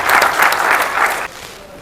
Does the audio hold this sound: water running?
no